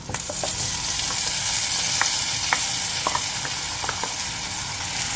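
Ground garlic curry paste fries and hisses loudly in a pan, with a spoon stirring through it and tapping against the pan several times over a continuous sizzle.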